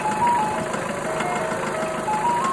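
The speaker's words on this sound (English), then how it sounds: "often playing a music to attract attention" An ice cream van plays its jingle, a thin electronic melody stepping through short notes over a steady engine hum, moderately close and continuous.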